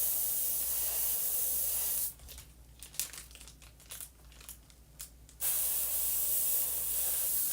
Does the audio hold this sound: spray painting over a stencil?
yes